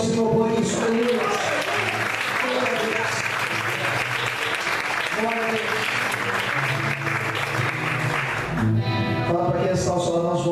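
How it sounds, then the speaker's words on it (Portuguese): A church congregation applauds during a Portuguese-language sermon, sustained broad clapping across the whole stretch with music or voices layered underneath and a brief shift near the end. "Você pode aplaudir ao Senhor por isso"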